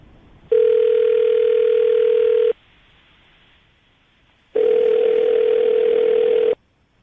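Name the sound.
telephone call ringing on radio show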